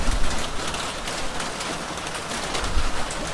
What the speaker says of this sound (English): I can't wait to see just how loud this rain is.